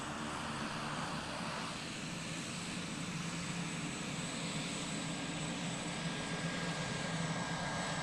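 A new Air New Zealand ATR 72-600 turboprop taxis at Christchurch Airport, its engines giving a steady, loud, close drone with a faint high whine running unbroken throughout.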